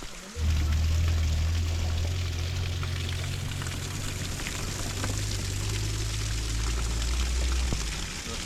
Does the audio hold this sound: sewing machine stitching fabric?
no